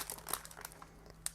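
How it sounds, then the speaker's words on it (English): Scissors snipping into and crinkling the sealed plastic bag of a 1/35 scale model kit, brief crisp crackles and a few sharp snips, close and quiet. "I will use scissors in order to open it"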